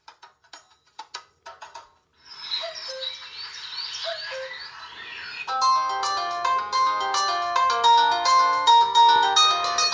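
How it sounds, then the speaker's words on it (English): A ringtone plays through the small built-in speaker of a Xiaomi Mi4 clone phone, starting with a few clicks, then a warbling chirpy tone and a bright run of repeating melodic notes, loud and close. "let's go here into phone ringtones and let's test the quality"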